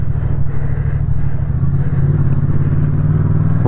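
A motorcycle rides along with a loud, steady low engine drone and road rumble, close to the microphone, with slight pitch shifts and no talking.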